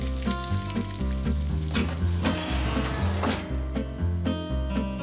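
Steak sizzles steadily in a cast iron skillet, a loud close crackling frying sound with bursts of spatter, alongside a persistent low tonal hum throughout.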